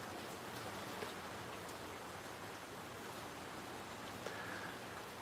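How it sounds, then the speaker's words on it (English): Hawaiian rain falls in a steady, even hiss, soft and constant throughout with no voices. "That's the sound of the Hawaiian rain."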